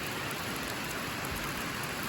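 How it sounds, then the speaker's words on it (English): Steady rain falls without a break, a dense hiss of drops spattering on surfaces with no voices or other sounds. "Well, it's raining still."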